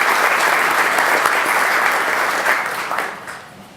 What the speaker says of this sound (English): So round of applause for the Chamber staff and the Chamber for a great job